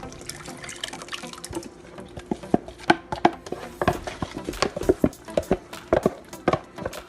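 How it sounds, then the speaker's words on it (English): Chicken stock poured into a pot of simmering Ghanaian jollof rice stew, giving a close, steady liquid splashing with a run of sharp drips and plops and a few clinks, with no talking. "I'm gonna go ahead and add the rest of the stock in here."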